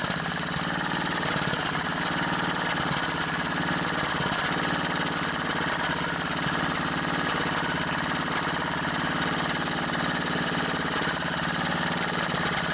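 A Craftsman edger engine idles steadily after a carburetor adjustment, a loud, close, continuous rough drone with an uneven mechanical chatter and no talk.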